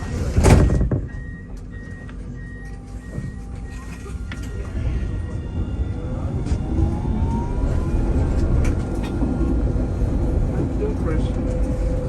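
Nottingham tram in motion, a low steady rumble and rolling hum carrying through most of the ride, with a loud clunk near the start and faint whining tones, heard from inside the car beneath occasional talk.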